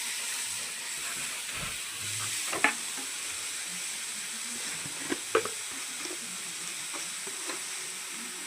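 Grated radish sizzles steadily in a hot pan with cumin seeds for radish paratha filling, with a few sharp scraping clicks of stirring breaking through the continuous hiss.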